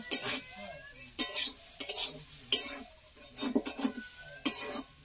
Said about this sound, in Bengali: আমি নেই বলে ও তরকারি নেড়ে দিচ্ছে